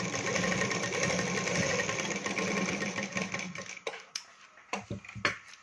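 A sewing machine runs a double line of stitching on a katori blouse, humming steadily for a few seconds before slowing into a series of short stop-start bursts and clicks.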